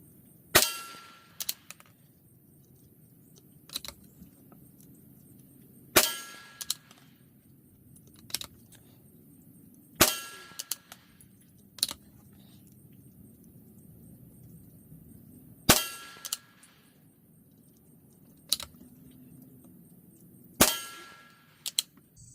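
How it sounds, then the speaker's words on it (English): Five .22LR rounds from a Savage Rascal youth rifle firing Aguila Super Extra High Velocity ammunition, each a sharp, moderately loud crack spaced a few seconds apart, with fainter clicks between them and no talking. "So I'm going to shoot 5 of those and we'll just aim center target now."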